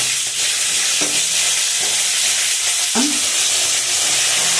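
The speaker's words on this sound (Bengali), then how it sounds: "কাঁচা লঙ্কা ফোড়ন দিলাম। কয়েক সেকেন্ড নাড়া হয়ে যাওয়ার পর" Green chillies sizzle loudly in hot tempering oil with cumin powder, a dense continuous hiss close up, with a few sharp stirring scrapes cutting through.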